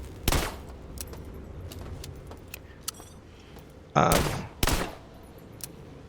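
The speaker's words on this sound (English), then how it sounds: "someone shooting at me" Enemy gunfire in System Shock, a few loud sharp bursts spaced apart over a low ambient hum, with faint clicks between.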